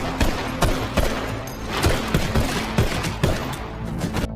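Rapid gunfire crackles in an intense exchange, sharp shots and bursts overlapping with dull thuds under a dense, loud cinematic soundscape.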